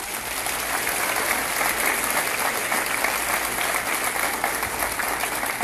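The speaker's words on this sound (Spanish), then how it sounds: "Si vas a aplaudir, es para ti, aplaude." Audience applause at a motivational conference talk: steady, dense clapping from a large crowd that holds evenly at moderate loudness throughout, with no voices over it.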